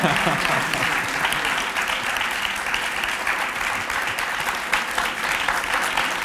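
Steady applause from a live podcast audience, a dense wash of clapping that holds at an even level throughout with no pauses.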